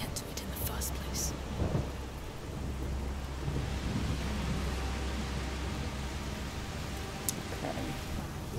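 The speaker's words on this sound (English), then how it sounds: "The rain is getting worse." Heavy rain pours steadily with low rolling thunder rumbling beneath it in the A Plague Tale: Requiem video game, a dense continuous downpour with a few brief crackling accents and no talking.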